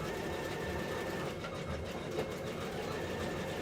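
A sewing machine stitches shoulder seams with a continuous close, even whirring hum of steady mid-level loudness throughout.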